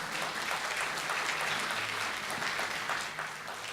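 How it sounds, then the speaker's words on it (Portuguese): A church congregation applauds during a sermon on the gift of prophecy, a steady wash of many hands clapping at moderate distance that eases slightly near the end. "Você pode aplaudir o Senhor que Ele merece?"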